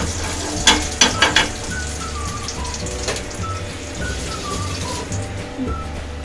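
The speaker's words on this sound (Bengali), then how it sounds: "তেলটা গরম হয়ে গেছে আমি একটু এর মধ্যে কালো জিরে দেবো কালো জিরেটা ভাজবো" Black cumin seeds crackle and sizzle in hot oil, a few sharp pops early on giving way to a steady close frying hiss.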